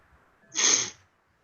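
A single close sneeze bursts out, loud and breathy, after a brief soft intake, and is followed by silence.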